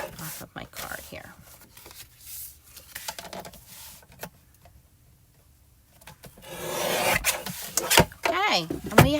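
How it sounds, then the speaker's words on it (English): Paper cardstock being trimmed on a small paper cutter, with close scraping and rubbing strokes, a quiet pause, then a louder rasping slide near the end. "just going to trim a little sliver off of my card here."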